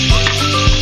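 Onions dropped into hot cooking oil hiss and sizzle steadily up close, with a couple of quick stirring scrapes in the pan.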